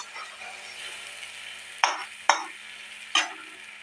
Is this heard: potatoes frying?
yes